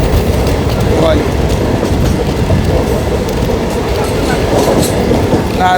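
Express train 61117 from Nagpur rolls into Narkhed Junction with a loud, continuous rumble and rattling clickety-clack of wheels, heard from on board with faint voices underneath.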